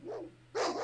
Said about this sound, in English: Yeah, they seem very angry dogs.